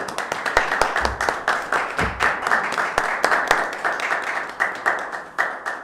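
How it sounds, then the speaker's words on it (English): Applause breaks out at a city council meeting in Winooski: a room of people clapping steadily with sharp, uneven hand claps, moderately loud and close, continuing for several seconds with no talk over it. "Let's give you a round of applause for Sally."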